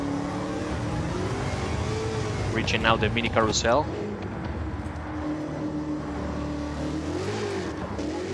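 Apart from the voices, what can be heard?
Roadster Shop Road Rage Camaro engine revving, racing video game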